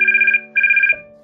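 A phone ringing with two loud, close electronic trilling bursts separated by a short pause, cut off abruptly at the end.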